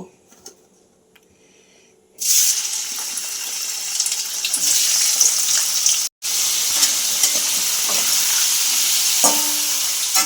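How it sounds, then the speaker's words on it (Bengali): Paneer pieces hitting hot oil in a pan: near-silence breaks into a loud, dense sizzle that holds steady, cut off for an instant midway, then frying on strongly up close. "এইবারে আমি পনিরগুলো ভেজে নেব"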